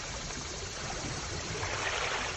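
Water rushes and washes steadily at a beach, a loud continuous broadband hiss with no voices over it.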